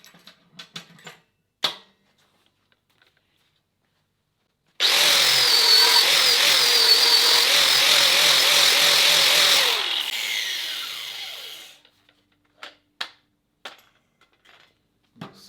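Power grinder with a 120 grit disc finishing stainless steel, a loud steady whine for about five seconds that winds down as it shuts off, framed by scattered clanks and handling knocks before and after.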